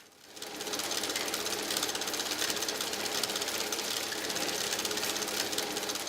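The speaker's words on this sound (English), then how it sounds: "The linotype takes a bit of maintenance" A linotype typesetting machine runs with a dense, steady mechanical clatter and rapid knocking. The sound is loud and close, continuous after a short start, with no voices.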